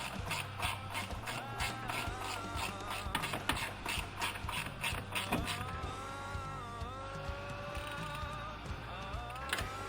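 Ratchet tightening a bolt on the reverse light switch of a 2006 Ford Focus, a run of quick mechanical clicks gradually slowing into a grinding ratchet whir, close by and steady.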